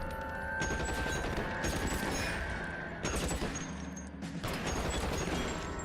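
Sustained gunfire in L.A. Noire: dense, rapid volleys of shots rattling almost continuously, loud and close, with a brief lull before the firing resumes.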